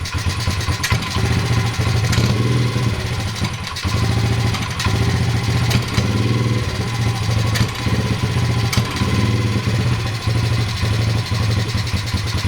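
A modded Honda pit bike engine idles steadily and loudly up close, with a constant low putter and slight fluctuations in speed throughout.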